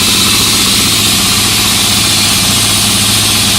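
A shop air compressor fitted with a charge air cooler runs loud and close, making a steady, unbroken mechanical drone with constant vibration and no pauses.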